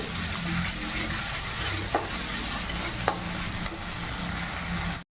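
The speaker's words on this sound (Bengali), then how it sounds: "টমাটো কেচাপ একটু ভেজে নেব" Tomato ketchup frying with spices in oil in a pan for a pumpkin-stalk dish, a loud continuous close sizzle with a few sharp spatula taps, ending abruptly.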